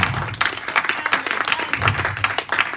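A church congregation at a Bible seminar bursts into sustained, dense applause, with many hands clapping steadily and near for the whole stretch; a few voices may be mixed in.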